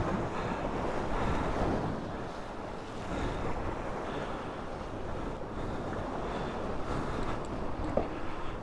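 Ocean waves wash against the shore of Okinoshima island under steady wind buffeting the microphone, a continuous rushing surf with no voices.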